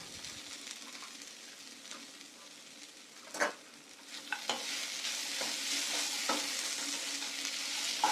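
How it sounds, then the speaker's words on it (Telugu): Okra fry sizzles steadily in a pan as fried peanuts are added and stirred in, with a few sharp spatula scrapes and clicks over the continuous frying hiss. "ముందుగా ఫ్రై చేసుకున్న పల్లీలను వేసేసుకుందాం"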